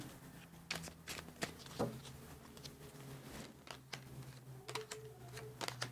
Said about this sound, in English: I'm going to draw 3 more cards quickly just to clarify